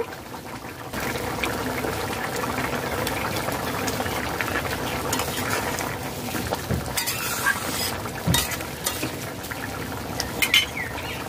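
Chana dal and mankochu (elephant-foot yam) curry boils in a pot over a medium flame, with steady close bubbling and a few louder pops near the end, no voices.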